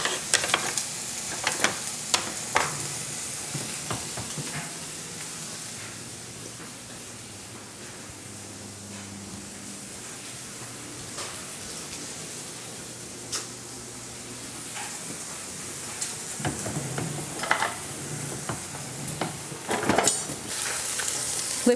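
Ham warms and eggs fry in a pan under a steady, moderate sizzle, with sporadic clanks and scrapes of utensils against the pan, busier at the start and end.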